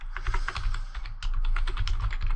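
Example text typed on a computer keyboard during Photoshop design work: a quick, steady run of close, crisp keystrokes with no talking.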